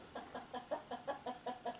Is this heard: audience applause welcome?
no